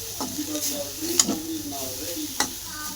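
Dried fish sukat chutney with red chili sizzling and being stirred in a wobbly kadhai, a steady close fry with spatula scrapes and taps, faint talking in the background.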